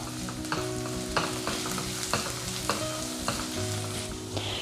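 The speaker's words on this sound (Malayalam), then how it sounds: "നന്നായിട്ട് നമുക്കിതൊന്ന് വഴറ്റിയെടുക്കാം" Chopped green chili sautéing in a hot pan, a steady close sizzle and crackle of frying with the soft scrape of stirring pulsing through at intervals, no voices.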